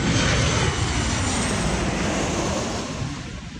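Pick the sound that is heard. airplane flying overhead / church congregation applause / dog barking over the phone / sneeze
airplane flying overhead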